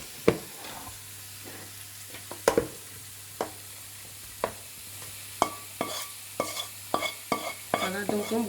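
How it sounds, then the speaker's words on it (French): A utensil stirs and scrapes through vegetables cooking in a pan for a vegetable gratin, a soft sizzle running underneath repeated close clacks and scrapes that grow more frequent toward the end, with no voices. "donc on mélange les légumes ici"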